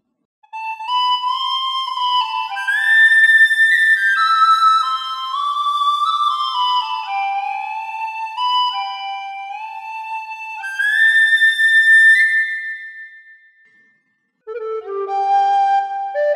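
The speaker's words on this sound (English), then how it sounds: "it does have a whistle. Give it a bit of reverb on it." A WARBL electronic penny whistle MIDI controller plays a slow melody of clear, pure sustained notes with a reverberant tail, pausing briefly before a few final lower notes.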